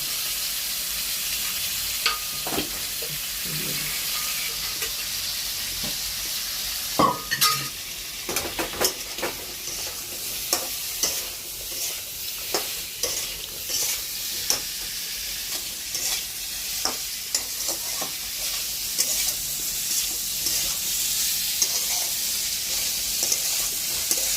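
Boiled jackfruit and potatoes sautéed with spices in a pan, stirred and tossed; a steady sizzle with scattered scraping and knocking spatula strokes, growing busier toward the end, no speech.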